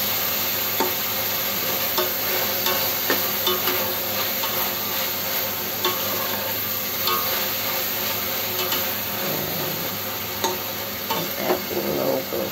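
Onion, garlic and pepper sizzle and are stirred in a pan for a mung bean dish, a steady close frying hiss with frequent clicks and scrapes of the utensil.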